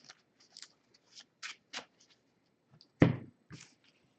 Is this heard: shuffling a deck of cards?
yes